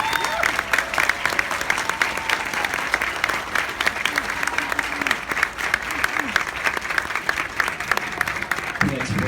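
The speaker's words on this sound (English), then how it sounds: "please join me in a round of applause for the company staff of Company L" Sustained applause from a large crowd at a Marine Corps graduation ceremony, dense rapid clapping that stays steady and fairly loud throughout, with some cheering mixed in.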